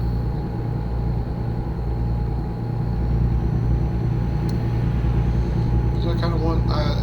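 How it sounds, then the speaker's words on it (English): A truck engine drones steadily while driving, a loud low rumble with constant hum filling the whole stretch, with faint rattles toward the end. "I enjoy the sound of the truck, the engine going in the background."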